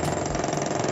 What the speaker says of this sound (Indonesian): Jadi kita dengar dulu mesin dan tengok cara kita hack.